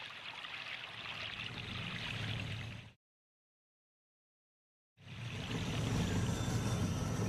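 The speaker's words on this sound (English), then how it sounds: "The creek narrows with fallen trees forming barricades" A narrow creek blocked by fallen trees flows with a steady rushing wash, broken by two seconds of total silence before the flow resumes.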